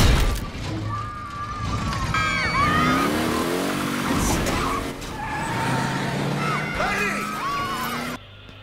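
A car accelerating hard in an Iron Man movie scene, engine revving with screeching tire squeals and skidding over continuous traffic noise, voices talking over it.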